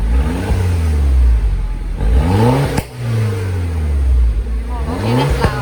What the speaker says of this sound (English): So now let's hear some popping sound of the engine.